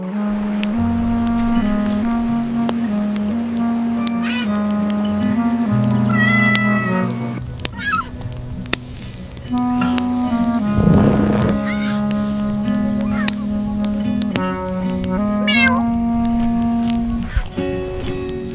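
Cartoon cat meowing repeatedly in a children's animation, with short harmonic meows standing out over a busy, steady musical background, loud and close throughout.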